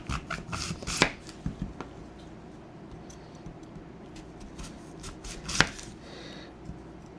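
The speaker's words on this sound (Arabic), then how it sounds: "وبعدين نقطع التفاح ونضيفه عليه" Apples are chopped into small pieces with a knife in quick irregular taps on a board, two sharper louder knocks standing out. The sound is close and quiet with no talking.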